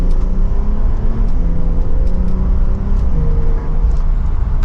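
A Porsche 911 Targa 4S with PDK transmission pulls hard from second gear, its engine droning loud and close with a steady rising growl and faint ticking on top.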